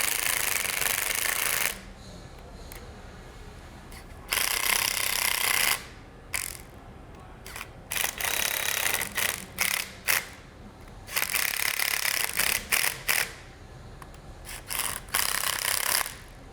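Ratchet wrench tightening nuts in a star pattern on Jarvis USS2A equipment during maintenance, loud rapid clicking in repeated bursts with brief pauses, close up and without talk.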